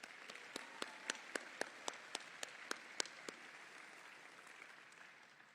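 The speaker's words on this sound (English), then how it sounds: "So join me in a round of applause for Jennifer." Audience at a university event welcoming a new head football coach applauding, faint and distant, a run of sharp separate claps that fades into quiet room tone.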